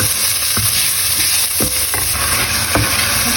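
Carrots being stir-fried in a pan for a Taiwanese-style vegetable dish with shrimp and ground pork: a steady close sizzle broken by several sharp scrapes and clacks of the utensil against the pan, with no talk.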